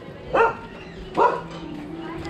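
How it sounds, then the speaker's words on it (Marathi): An agitated dog barks angrily outside a goddess shrine in a Chunabhatti market. Two sharp, separate barks come about a second apart, fairly close, over a low background hum. "कुत्रा बघा मला चावणार आहे आता."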